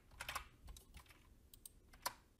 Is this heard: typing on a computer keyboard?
yes